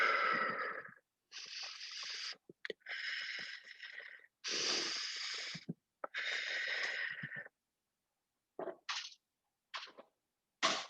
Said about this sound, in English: exhaling through your mouth.